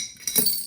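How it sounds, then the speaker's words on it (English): Coins drop into a glass jar with a bright, sharp clink, a brief jangling rattle of metal on glass close by, with no talk. "There's no real easy way to put money into a glass jar."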